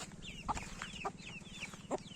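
Ten-day-old chicks cheep in a pen with older chickens, soft repeated peeps sliding downward and a few louder clucks over a steady low hum, fairly close.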